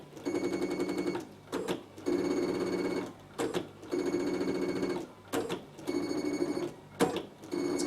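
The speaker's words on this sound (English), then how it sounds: "So this machine now is going to take 8 minutes and it's going to stitch my whole bicycle for me." A Bernina embroidery sewing machine stitches out a bicycle design in rapid, steady needle-driven bursts, pausing briefly between runs of stitching, close and loud with no talking.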